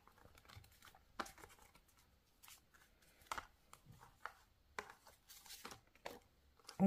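Tarot cards being cut and shuffled by hand, giving a string of quiet papery riffles, slaps and crinkles in irregular bursts, close and faint, with no talking.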